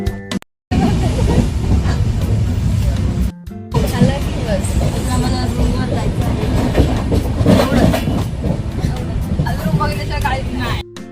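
A passenger train rolls along the rails toward a railway station on the way to Goa, a loud, steady rumble with a rhythmic clickety-clack of the wheels and a murmur of voices inside the coach.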